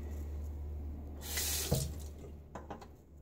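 Tap water running into a sink to rinse an adjustable Schick injector razor, a short burst of splashing flow over a low hum, with a few light knocks and drips after.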